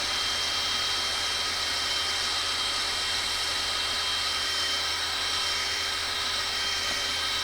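A power drill bores a hole under light pressure, giving a steady, even high whine that runs without a break at moderate volume.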